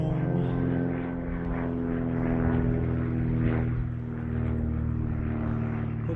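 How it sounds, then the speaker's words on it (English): A propeller airplane drones overhead, a steady buzzing engine hum with layered tones that swells and eases slightly as it passes, heard outdoors without talk. "Airplane."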